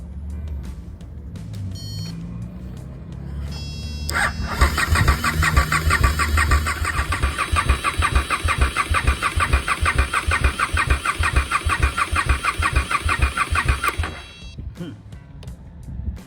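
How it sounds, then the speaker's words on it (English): A KTM 1290R motorcycle with a no-crank fault turns over on the starter without firing, a fast rhythmic whirring chug that runs steadily for about ten seconds, then stops abruptly into quiet. "given that I'm cranking it and it's not responding to the key, is it the immobiliser?"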